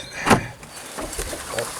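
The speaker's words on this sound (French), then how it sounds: "Attendez, j'ouvre la porte." A garden shed door being opened in an abandoned manor, giving a single sharp creak or scrape near the start followed by quieter rattling and shuffling, close and fairly loud with no talk.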